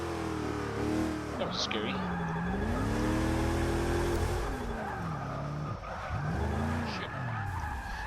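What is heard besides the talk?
GMC Vandura drifting and skidding in video game Forza 6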